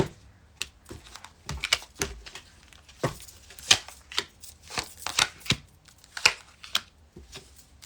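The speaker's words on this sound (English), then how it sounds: "Cut the deck." A tarot card deck is cut and shuffled up close, giving a string of quick papery riffles and soft slaps in uneven bursts, with no talking.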